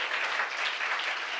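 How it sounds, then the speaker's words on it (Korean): An audience at a policy forum claps steadily, a dense, even wash of applause with no voices over it. "다시 한번 격한 호응의 박수 한번 부탁드리겠습니다"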